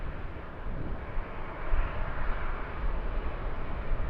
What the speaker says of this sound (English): Be taxiing down to runway 34 left for a departure